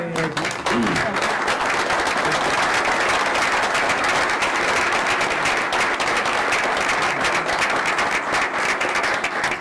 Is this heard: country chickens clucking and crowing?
no